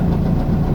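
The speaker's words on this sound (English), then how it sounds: "the engine sounds perfect" Steady low rumble of a warmed-up VW Bug engine idling near 800 RPM, even and close with no breaks.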